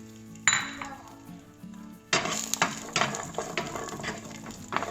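Clinks of metal utensils against a pan are followed by a sudden burst of sizzling as garlic hits hot oil for rasam, with scraping stirs continuing.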